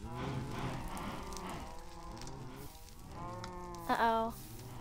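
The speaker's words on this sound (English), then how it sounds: "Oh, the cows fell out, no." Cows mooing in the video game Minecraft, several overlapping low, drawn-out moos with wavering pitch, close and fairly loud, with a sharper, louder moo near the end.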